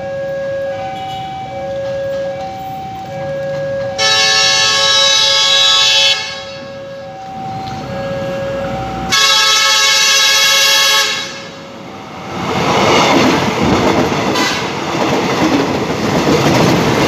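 At a railway level crossing near Medan, Indonesia, a train horn blares twice in long, loud blasts over rumbling rail noise, then the train roars past close by with broadband clatter.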